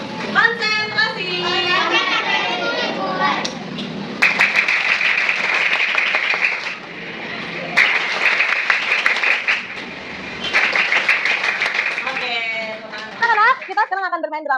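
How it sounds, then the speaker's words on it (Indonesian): A group of schoolchildren in an Indonesian classroom clap in bursts of rhythmic, patterned hand claps, with children's voices heard before and after. "Tepuk tangan buat kita semua."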